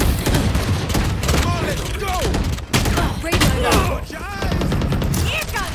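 Gunfire from the video game Valorant crackles in rapid, dense bursts throughout, loud and continuous, layered with in-game voice callouts and other game sound effects.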